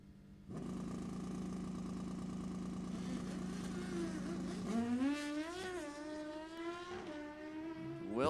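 An NHRA Summit Racing Series Division 7 E.T. Finals drag race launch: a loud, close engine drone holds steady, then surges into a rising, wavering acceleration whine as the dragsters pull away.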